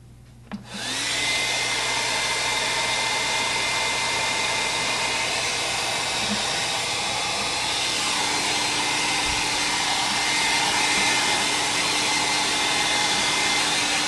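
A hair dryer drying wet kids' artwork switches on with a click and then runs as a loud, steady whoosh close by, holding an unbroken tone to the end.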